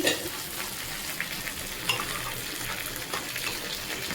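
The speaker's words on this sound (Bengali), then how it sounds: "ঢাকনাটা এবার খুলবো ফুটছে খিচুড়ি" Khichuri of rice and lentils boiling in a covered pot on the stove, a steady close bubbling hiss with a few brief clatters, no voices.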